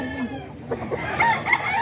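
A rooster crows and chickens cluck nearby, with a steady farmyard hum underneath.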